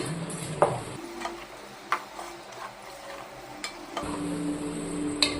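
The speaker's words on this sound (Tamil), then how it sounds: "நம்ம சேர்த்துக்கிட்ட கத்திரிக்காயை மசாலா கூட நல்லா கலந்து விட்டுருவோம்" Brinjal stirred with masala in oil in a pan, with scraping and soft sizzling, punctuated by a few sharper clinks of a utensil against the pan.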